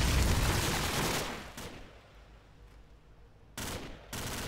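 Rapid gunfire in the video game Call of Duty Frontlines: a loud sustained automatic burst that fades into quiet, then two more sharp bursts near the end.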